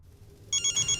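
A telephone rings from an unknown number in a home setting, its bright electronic trill starting halfway through and repeating in loud, evenly spaced bursts over a faint room background, with no one speaking.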